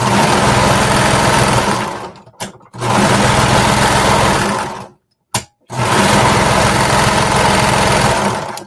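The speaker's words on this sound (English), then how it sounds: "I'm just going to use my serger" A serger stitching through overlapped elastic runs loud and close in three sustained bursts of rapid mechanical whirring, separated by brief pauses, with no talk.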